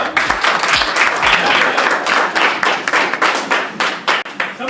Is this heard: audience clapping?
yes